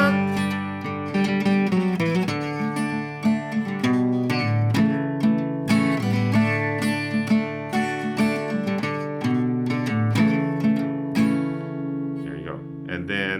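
Acoustic guitar plays a melody as a solo arrangement, a steady stream of plucked notes with clear sustained tones and octave lines, close and alone without talking.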